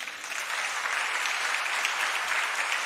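Timid applause from a conference audience, a soft steady patter of many hands clapping evenly for about three seconds with no voices over it.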